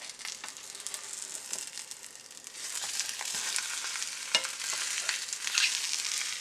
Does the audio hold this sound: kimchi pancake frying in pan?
yes